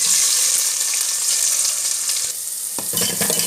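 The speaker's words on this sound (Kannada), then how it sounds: "ಈಗ ಪಟ ಆದ ನಂತರ ನೀರುಳ್ಳಿ ಹಾಕುವ" Onion hits hot oil already crackling with mustard seeds and urad dal for a tempering, giving a loud, steady sizzle close up with stirring scrapes near the end.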